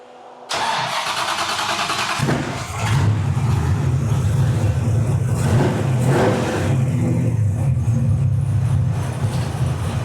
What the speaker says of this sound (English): He's gonna start the car up and he's gonna clear it out, which means give it some throttle